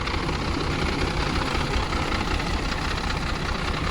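A tractor engine idles steadily close by in a farm setting, a continuous low rumble with a vibrating texture and no voices over it.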